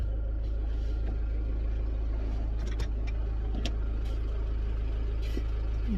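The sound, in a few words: vehicle engine revving through exhaust pipe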